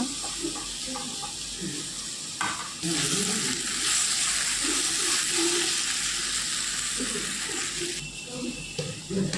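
Onions and tomatoes sizzle loudly in a pan, a continuous close frying hiss with stirring scrapes, under intermittent talking.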